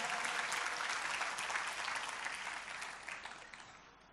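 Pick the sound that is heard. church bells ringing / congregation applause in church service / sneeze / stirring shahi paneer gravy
congregation applause in church service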